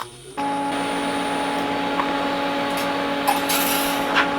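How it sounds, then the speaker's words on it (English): Welding a protection hoop onto a mini offroad buggy: a steady, unbroken buzzing crackle starts abruptly after a brief quiet moment and holds at an even level, with no talking. "So now I'm just going to weld that on."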